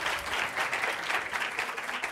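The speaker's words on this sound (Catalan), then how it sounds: "aquest fort aplaudiment pel David" An audience at a school spelling contest semifinal gives a participant strong applause, a steady, moderately loud roll of clapping with no speech over it.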